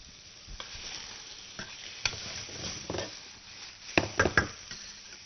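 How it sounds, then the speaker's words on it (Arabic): Onions sauté in a pan with a little butter, a soft sizzle broken by scraping stirs and a cluster of sharper clinks and knocks toward the end, close and moderately quiet. "انا هنا شوحت البصل بس بتاعي تتبيله بسيطه كده، احط سنه زبده صغيره كده"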